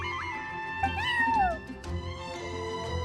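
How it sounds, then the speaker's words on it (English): In the video game Genshin Impact, a cat gives one clear rising and falling meow with a couple of softer mews around it, set against steady game background music. "I'm sorry, that's my neighbor's cat"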